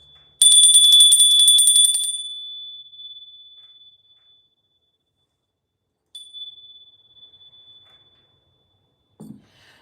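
A bright bell rings loudly once and its tone rings out over a couple of seconds, followed by a second fainter strike that decays, then a brief low thump.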